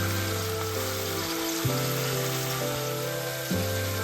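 Sliced onions with cardamom and whole spices sautéing in a pan for okra mappas, a continuous close frying sizzle with low steady hum and a few soft shifts in tone, no talking.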